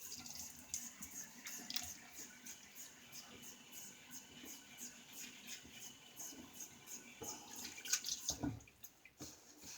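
Water splashes and trickles from a running tap at a sink as a face is wetted for shaving, soft and close with irregular splashes and drips, with a voice talking over it.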